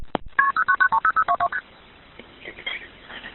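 Rapid run of about a dozen telephone keypad tones dialing an emergency 911 call, evenly spaced and crisp, followed by a brief quiet stretch and faint line noise.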